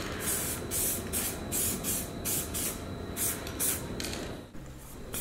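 Spray paint hisses from an aerosol can in steady, repeated bursts as car headlights are coated, close and fairly loud, with brief pauses between passes.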